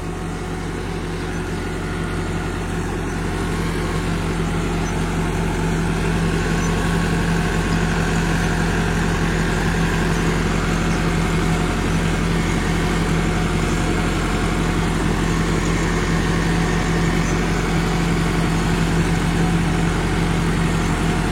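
Tractor engine running in a field where wheat is sown into maize stubble with a super seeder, a steady low diesel drone with continuous rumble and rattle, loud and even throughout, no voices.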